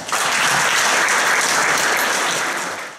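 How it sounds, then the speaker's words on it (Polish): A burst of loud audience applause at a young singers' song festival in Poland, with many hands clapping together, swelling quickly, holding steady, then tapering at the end. "Brawa dla nas!"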